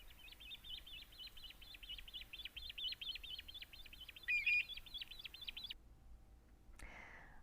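A western grebe calls on Big Bear Lake, a rapid series of high, scratchy creaking notes repeated in a steady rhythm, faint and alone, until the sound cuts off.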